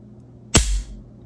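A single sharp, close mechanical click from the trigger break of a Walther CCP M2 .380 pistol, followed by a brief low thud, in an otherwise quiet room.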